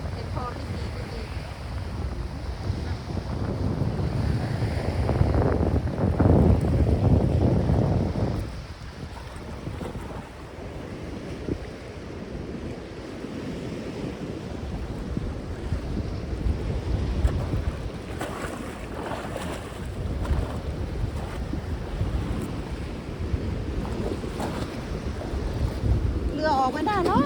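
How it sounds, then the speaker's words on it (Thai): Strong wind buffets the microphone on the Danish coast while heavy sea waves roll and crash nearby, a continuous low roar that surges louder around the middle, with a person talking faintly at times. "วันนี้คลื่นแรงมากเลย"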